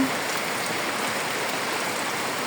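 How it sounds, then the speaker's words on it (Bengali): Heavy rain pours down in Bhola district, Bangladesh, a dense, constant hiss of falling water that holds unbroken and fairly loud throughout. "দেখেন আমাদের এই জায়গায় কি পরিমাণে বৃষ্টি হইতেছে।"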